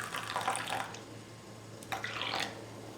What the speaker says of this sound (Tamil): கொஞ்சமாக தண்ணி சேர்த்து நான் இப்போது காஃபி பவுடரை கரைச்சி எடுத்துக்கிறேன்.